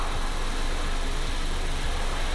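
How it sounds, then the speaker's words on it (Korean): A second-generation Lincoln MKZ 2.0 engine idles with a steady, even hum, close by and constant, with no voices. "엔진 소리도 일정하네요"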